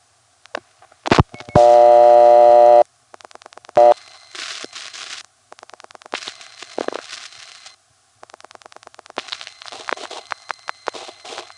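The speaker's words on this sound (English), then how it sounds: "Here's another call to MO9." A call placed through an old Bronx telephone exchange, Grand Concourse panel office, routed to an intercept operator: sharp switching clicks, a long harmonic tone burst, then bursts of rapid pulsing and line noise with no voices.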